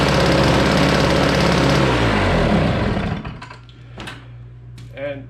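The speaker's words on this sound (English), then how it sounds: "put some fresh gas in it, hit that prime button a few times, set the choke, and gave this little cord right here a yank." Small gas engine with a primer and choke, started with a pull cord, running loud and rough for about three seconds before cutting out, then a person talking over a low hum.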